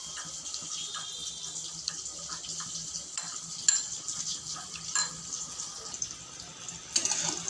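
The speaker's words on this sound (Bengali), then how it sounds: "এবারে একটু নর্মাল টেম্পারেচারে জল দিয়ে মশলাটাকে মিশিয়ে রাখবো" Cumin and turmeric powder stirred together with room-temperature water in a home kitchen, prepared for a hilsa and shola kochu curry: quiet, steady watery swishing with a few faint clinks of a spoon against the bowl.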